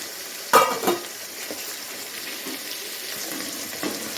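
Nine chopped vegetables for a traditional Pongal kootu kuzhambu sauté in a pan with a soft, steady sizzle, broken by a few sharp clinks of a stirring spoon near the start.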